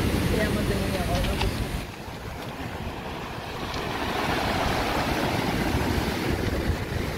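Stormy sea surf rolls and breaks onto a pebble beach at the Olympic Park in Sochi, a loud, continuous roar of churning water and wind buffeting close to the microphone, with no clear pause between waves.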